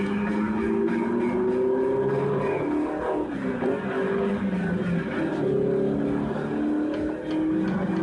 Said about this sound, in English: It's the famous 4-cam Porsche engine, 1500cc, dual enhanced.